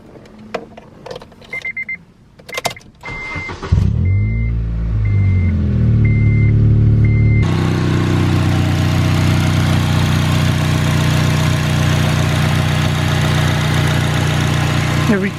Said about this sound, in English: Let me start it up for you.